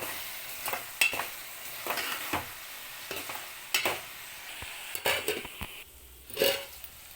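Tomatoes go into a frying cauliflower curry and get stirred, with a soft sizzle under repeated scraping and clacking strokes of a utensil against the pan, fairly close and irregular.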